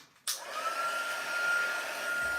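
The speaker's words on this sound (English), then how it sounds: "I'm going to go ahead and bring in my heat tool" A heat tool for heat-setting embossing powder switches on with a sudden start and then blows steadily, a constant whirring airflow with a thin whine that holds, close and alone without talk.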